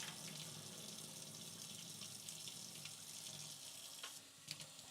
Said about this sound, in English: Get a quick rinse here.